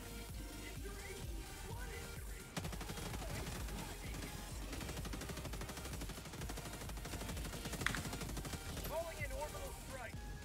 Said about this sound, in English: I landed in the middle of the Gatling barrage